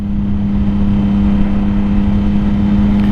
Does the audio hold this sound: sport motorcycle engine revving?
yes